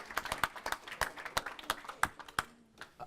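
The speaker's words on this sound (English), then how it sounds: "Round of applause." An audience at a crypto panel gives a brief, sparse round of applause, with distinct separate hand claps in loose rhythm that thin out and stop near the end.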